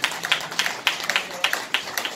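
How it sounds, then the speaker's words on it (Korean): Sparse clapping from a small seminar audience welcoming a panelist, a handful of hands striking irregularly at moderate level in a quiet room, no voices. "박수 한번 쳐주세요."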